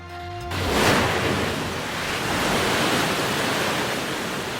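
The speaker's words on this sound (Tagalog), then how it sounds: "Rumagasa naman ang tubig sa Wawa Dam sa Rodriguez Rizal dahil sa matinding pag-ulan noong Miyerkules." Floodwater roars from Upper Wawa Dam in Rodriguez, Rizal after heavy rain: a loud, steady broadband rush of surging water that swells in after a brief opening moment and holds constant, with no voices.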